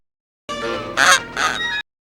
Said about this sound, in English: terrorising a flock of terribly rendered CGI geese